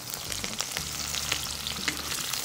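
Dried red chillies and small shallots frying in hot oil for soya chunks chukka, a steady close crackling sizzle with low hum beneath, continuous and fairly loud with no voices.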